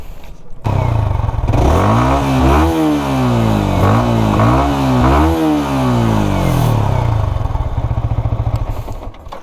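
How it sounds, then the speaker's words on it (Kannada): A Yamaha R15 V3 motorcycle, BS IV model, idles then revs several times in quick succession, the exhaust note rising and falling loudly up close before settling back to a rough idle, with no talk. "ಗಾಡಿ ಎಕ್ಸಾಸ್ಟ್ ನೋಟ್ ಅಂತ ತೋರಿಸ್ಬಿಡ್ತೀನಿ"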